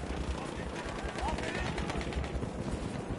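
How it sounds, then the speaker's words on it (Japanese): Rapid automatic gunfire in a shooter video game, a player firing at a wall, comes as a continuous rattling burst of shots at moderate level. "壁に向けて発砲してたよ。"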